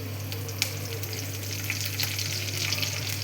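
Mustard seeds, cumin and curry leaves frying in hot oil, a quiet steady sizzle with scattered small pops and crackles, no voices.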